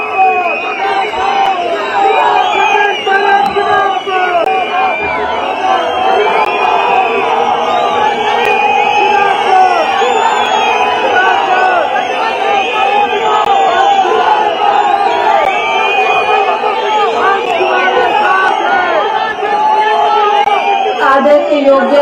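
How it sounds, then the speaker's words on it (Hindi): A large outdoor crowd at a political gathering in Shimla's Ridge ground welcomes Pratibha Singh with sustained loud cheering, shouts and chatter, a dense roaring mass of voices that continues without pause. "जोरदार तालियों से स्वागत करें श्रीमती प्रतिभा सिंह जी"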